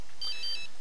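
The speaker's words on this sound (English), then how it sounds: "Answer your phone." Brief electronic phone ring in The Sims 3, a short bright trilling tone burst, clear and fairly loud, on its own without talk.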